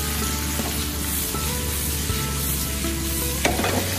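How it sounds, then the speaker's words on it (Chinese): Cucumber stir-fries over high heat with sugar and dark soy sauce in a wok, a loud, steady close-up sizzle with the scrape and clatter of a spatula tossing the pieces. "给它连续开大火翻炒15秒左右"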